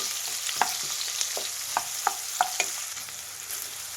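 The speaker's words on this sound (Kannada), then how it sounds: "ಈ ಈರುಳ್ಳಿನ ಗೋಲ್ಡನ್ ಬ್ರೌನ್ ಬರೋವರೆಗೂ ಫ್ರೈ ಮಾಡಬೇಕು" Two large onions frying in hot oil toward golden brown, a soft steady sizzle under repeated light taps and scrapes of a stirring spoon against the pan, close by and without any talk.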